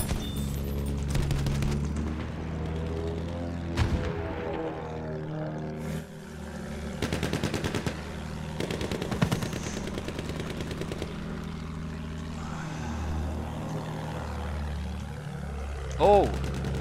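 Gunfire in the Battlefield 1 video game, with bursts of rapid automatic fire and scattered single shots over a steady background rumble and music. Players talk over it now and then.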